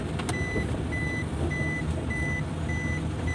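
A reversing alert from a car with an automatic transmission beeps in an evenly spaced, repeating pattern of about five tones over a steady low engine rumble, with no talking.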